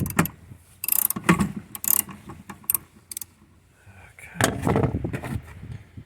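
Ratchet clicking in short bursts as 14 mm windshield wiper nuts are loosened on a Toyota Prius, close sharp ticks separated by pauses, with some talk and handling noise.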